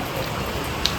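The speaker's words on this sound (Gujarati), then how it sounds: "ચાલો ચાલુ થઈ ગયો વરસાદ." Rain falling over Rajkot, a steady, even hiss of drops with no distinct gusts or talk, one small tap standing out near the end.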